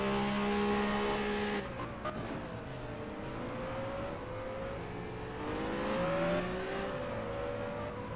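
Formula race cars in a sim racing event at Abu Dhabi, with engines whining and shifting pitch as several cars run close together. A steady, moderately loud drone rises and falls with revs, and no one speaks.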